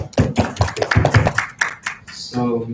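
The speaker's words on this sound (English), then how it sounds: "Let's give her a round of applause." A small conference audience claps after a presentation, with distinct, close hand claps in an uneven rhythm that thin out before a voice begins speaking near the end.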